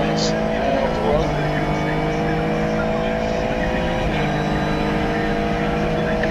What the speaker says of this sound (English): here the car gets really light, but it's just a great feeling to go up here